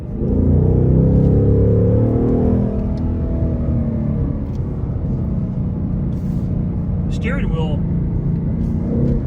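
A 2024 Ford Mustang GT V8 drones in third gear while driving, with a deep, loud, steady rumble throughout and a voice faintly audible.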